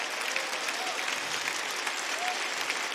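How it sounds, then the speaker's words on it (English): Audience applause at a Rainbow Six Siege Six Invitational esports event, a steady wash of clapping from a large crowd that fills the whole moment without a break. "Please give a big round of applause to Simon Emilien."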